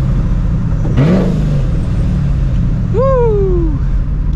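A supercharged 2004 Mustang GT with a straight-pipe exhaust gives two sharp revs, a short blip near the start and a louder rising-and-falling rev about two seconds later, over a steady loud idle rumble.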